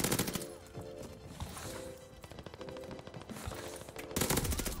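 Rapid automatic fire from a Type 100 submachine gun in the video game Call of Duty: Vanguard, dense sustained bursts of rattling shots with brief gaps, loud and close.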